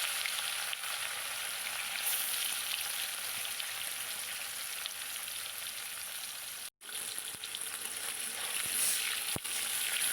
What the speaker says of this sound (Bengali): প্রথমে আমি মাছগুলো ভেজে নিই বেশ বড় বড় চাকা